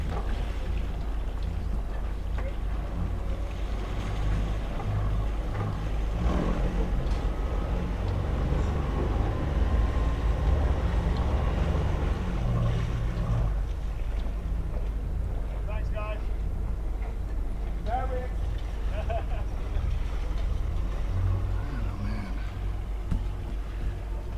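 Twin-engine catamaran maneuvering in a harbor, a low steady engine rumble under wind noise and water, with people talking over it throughout.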